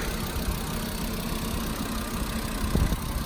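A car engine idles steadily with a low, rumbling hum, close by and continuous, with a slight rise in noise near the end.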